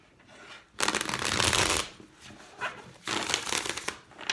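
A Tattoo Tarot deck being shuffled by hand: two long bursts of crisp riffling and flicking card noise, close and fairly loud, with quieter shuffling between them and no voice.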